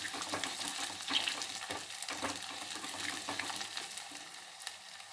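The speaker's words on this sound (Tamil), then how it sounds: "நல்லா எண்ணெயிலேயே வதங்கி வெந்துடணும்." Orange peel sautés in oil in a pan for a zero-waste gotsu, giving a soft continuous sizzle with light scraping stirs, fairly quiet and steady, with no voices.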